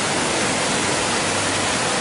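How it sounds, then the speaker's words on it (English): A dense, even roar of a waterfall in Argentina fills the air, steady and loud with no breaks. "at the end of the cruise, we get out, and there is a very nice waterfall"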